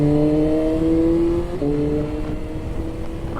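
BMW S1000RR M Sport motorcycle engine, 2025 model, held at a loud, steady rev close by, then dropping briefly as the throttle blips and settling into a rougher idle.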